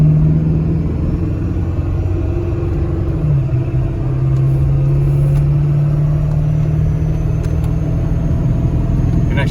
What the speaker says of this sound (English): You can actually get the turbo there.